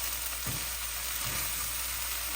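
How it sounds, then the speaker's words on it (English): Eggplant vetha kozhambu simmers and sizzles in a pan as it is stirred, a soft steady hiss with a couple of low scraping knocks from the spoon and no talking. "I'm going to mix it up"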